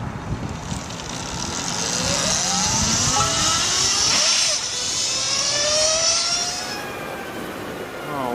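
LS218 electric motorcycle at full throttle on a mountain road, a loud rising high-pitched electric whine that sweeps upward in pitch as it accelerates, then tapers away, with a voice heard over it.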